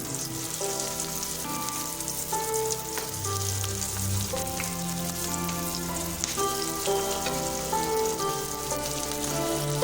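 Onion rings frying in hot oil, a steady crackling sizzle with dense spattering that runs continuously and evenly at moderate loudness, with faint kitchen clatter underneath.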